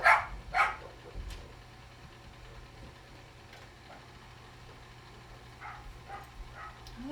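Dogs bark outdoors in two quick loud bursts at the start, then a few fainter barks and yips later over a low idling engine rumble.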